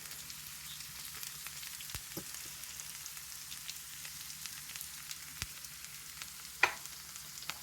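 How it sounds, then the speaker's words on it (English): Beef pieces frying in a pan for an Acadian-style beef fricassee, giving a steady soft sizzle with faint crackles and one sharper pop near the end, heard alone without talk. "I'm just going to check and see how they're frying up"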